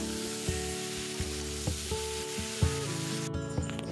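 Fish fries in oil in a home kitchen pan with a steady, loud hiss of sizzling and a few scraping stirs and clinks of a utensil, with no one speaking.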